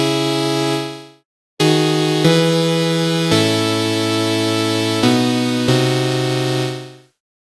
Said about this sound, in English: So I'm going to start with a analog synth here.